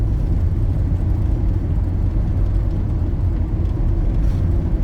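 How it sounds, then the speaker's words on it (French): A car travels along a desert road, its steady close engine and tyre rumble droning continuously without a clear pass-by swell. "Ah, une voiture."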